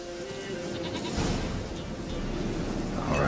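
A goat bleats in The Witcher 3, steady game ambience of a farmyard around it, the calls blending into a dense, moderately loud background without any talk.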